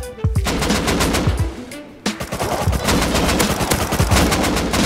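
Rapid gunfire from explosive ammo in the survival game Rust, loud and close, with dense repeated shots and a brief dip before another sustained burst.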